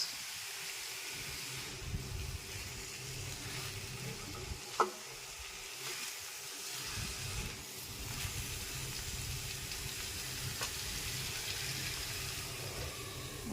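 Sliced bitter gourd fries in oil in a pan, a steady, soft sizzle that holds evenly throughout, with an occasional faint click.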